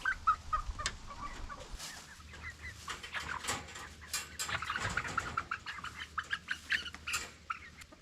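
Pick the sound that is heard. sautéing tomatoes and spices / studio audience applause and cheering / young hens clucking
young hens clucking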